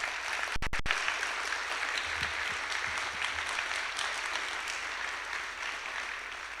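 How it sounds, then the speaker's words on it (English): Audience at a high school honor society induction ceremony gives a round of applause, steady clapping from many hands in a large room, moderately distant, with a few sharp thumps near the start. "If we could get another round of applause for our current,"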